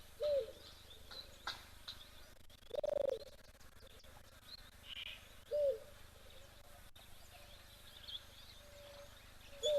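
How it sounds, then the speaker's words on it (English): A cuckoo calling at a South African waterhole, short mellow whistled notes repeating at intervals among other faint bird calls, with one louder note standing out amid quiet outdoor ambience. "I hope you heard a cuckoo because there are lots of different cuckoos, all with lovely calls"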